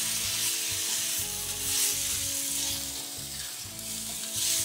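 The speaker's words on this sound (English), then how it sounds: "Now I'm going to add some chopped tomatoes." Chopped tomatoes sizzle and fry steadily in a pan on a restaurant range top, a loud continuous hiss with stirring scrapes and a low steady hum of kitchen equipment underneath.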